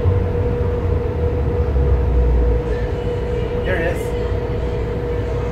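A Las Vegas Monorail train rides along and pulls into a station, with a steady low rumble and hum inside the car. A person speaks briefly near the end.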